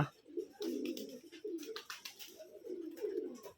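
Giribaz pigeons from Rajshahi coo in low, throaty repeated phrases, close and clear, with wing flutters and small rustles in between.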